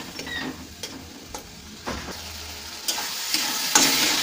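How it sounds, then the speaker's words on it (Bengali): Spice masala with garlic paste cooks down in a pan, a faint background sizzle broken by a few distinct scraping stirs spaced about a second apart. "মশলাটা কষে নেব।"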